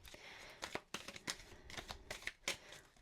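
Tarot cards are shuffled close by in quick irregular riffles and slaps, several crisp bursts separated by short pauses, with no talking.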